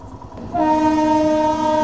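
Train horn blares loud and close as a train passes Lasur railway station in Maharashtra, starting abruptly and holding steady over rumbling rail noise.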